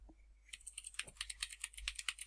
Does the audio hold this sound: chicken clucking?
no